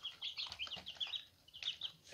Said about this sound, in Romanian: Aici avem niște pui de găină.